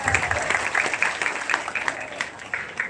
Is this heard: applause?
yes